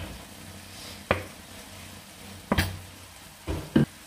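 Restaurant-style Kerala chilly fish sizzling in a pan with dry chillies, green chilli paste and hot ketchup, a soft frying hiss broken by three or four sharp, close stirring clatters.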